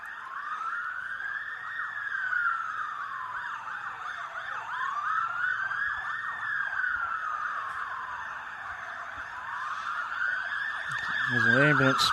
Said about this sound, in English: As an ambulance passes by.